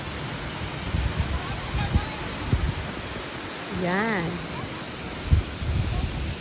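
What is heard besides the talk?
waterfall at Water Bay Falls park, sea nearby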